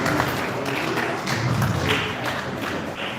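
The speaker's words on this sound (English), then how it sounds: "Let us give up a round of applause for him." An indoor audience claps to welcome a speaker at a mental health awareness event in Enugu, a busy, fairly loud spread of hand claps with a few louder taps and thuds.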